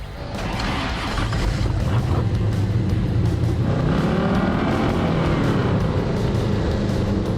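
A bodyless track car with a 590 hp LS V8 roars around a road course, a loud, close engine that builds from a lower rumble into sustained hard acceleration with rising pitch.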